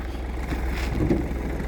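A 2016 Skoda Fabia 1.4 TDI 105 hp diesel hatchback idles steadily with the hood open, a low continuous engine rumble holding an even level throughout with no speech.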